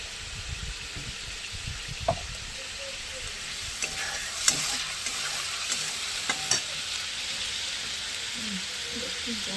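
Spices frying and sizzling in oil in a home kitchen, a steady hiss with occasional stirring clinks and scrapes, some faint voices in the background.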